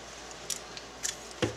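A few short, crisp snips spaced apart, then a sharper cut near the end, close by in a quiet room.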